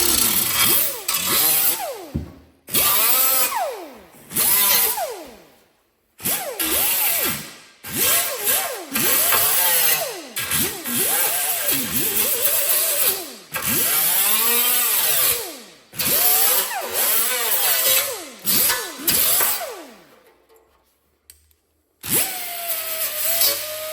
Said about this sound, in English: Take my angle grinder. Just clean these edges up again.